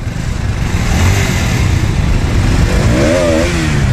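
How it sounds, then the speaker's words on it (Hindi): Motorcycle engines rumble and rev loudly at the start of a large group defence bike ride with around 1500 riders, a steady dense roar from many bikes with rising revs near the end and no talk. "तो भाई राइड अपनी स्टार्ट हो गई है, देख लो एक बार साउंड, ये देख लो"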